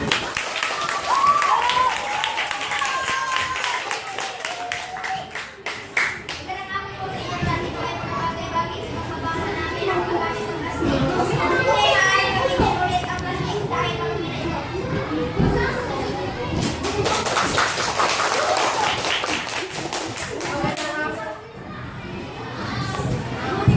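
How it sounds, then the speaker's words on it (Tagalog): A school debate audience of children claps and cheers for the teams, a busy mix of scattered clapping, shouts and kids' chatter rising and falling throughout, with a voice audible over the noise. "Salubungin natin ng malakas na palakpak."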